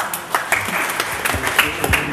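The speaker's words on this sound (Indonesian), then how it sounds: "Berikan tepuk tangan." A church congregation breaks into applause during a sermon, a short burst of scattered, uneven hand claps, fairly close and lively.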